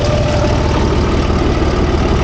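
The engine of a 50 horsepower tractor rumbles steadily at a low idle, a loud, close, even drone with faint vibration and no voices.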